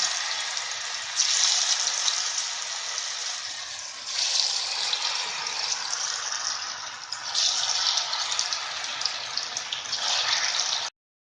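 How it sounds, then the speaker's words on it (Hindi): Jackfruit pakoda pieces deep frying in hot oil, a steady close hiss and crackle of bubbling oil that swells as pieces drop in, continuous and without talk, then cuts off abruptly. "अब इसमें हम एक एक पीस इसमें डीप करके तेल में छोड़ देंगे"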